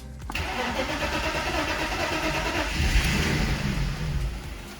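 A BMW E46 is cranked in neutral: a short starter whir, then the engine catches and runs roughly at close range, loud and steady for a few seconds before dying.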